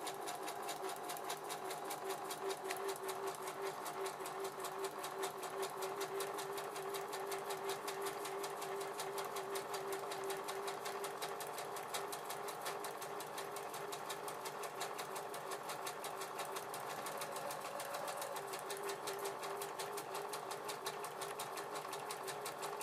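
A sewing machine steadily stitches curved cape fabric layered with strips of interfacing, giving a continuous fast mechanical whir that runs unbroken at an even, close, moderate level with no talking.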